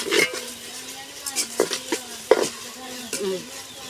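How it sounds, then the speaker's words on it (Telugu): Onions sizzle in a hot pan while a spoon scrapes and stirs, with a few sharp clanks against the pan as chicken goes in; a voice talks over the frying. "ఆనియన్స్ అయితే బాగా మగ్గిపోతున్నాయండి చికెన్ అయితే వేసేసుకుందాము"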